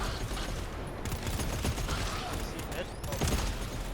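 A player's turret fires in the video game GTFO, a dense stream of rapid gunfire rattling throughout under a voice speaking briefly.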